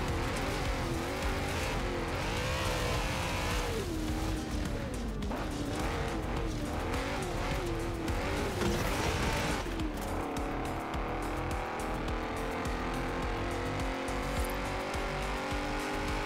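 A lightly tuned BMW M5 in Forza Horizon 4 revs hard, its engine note wavering as the tires squeal and skid through turns, then a steadier high engine drone takes over, loud and up close with no talking.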